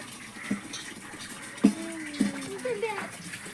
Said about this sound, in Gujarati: પાણી આવી છે પાણી ભરી દઈએ